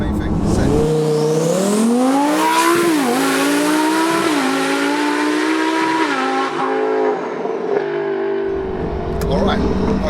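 Twin-turbo 1200bhp Lamborghini Huracan accelerating hard from close by inside the car, engine note climbing through rising gear pulls with brief shift dips, loud and continuous, then dropping off near the end; people talk over it.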